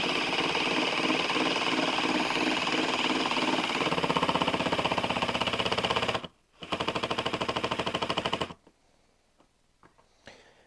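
A power driver runs in fast, loud rattling bursts while driving fine-thread screws into oak cabinet face frames, continuous for several seconds, then a short pause, another burst, and near quiet at the end.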